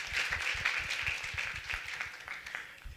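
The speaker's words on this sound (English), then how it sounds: "Let's give them a round of applause" An audience at an HBCU making and innovation showcase applauds briefly. The clapping is moderately soft and crowded, then tapers off slightly toward the end.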